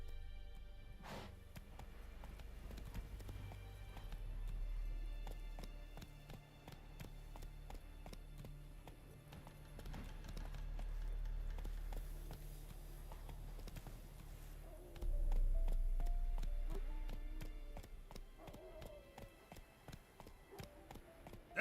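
Roach, the horse in the Witcher 3 video game, gallops with a soft, rapid drum of hoofbeats under a low rumbling game soundscape, fairly quiet and continuous, swelling louder near the end.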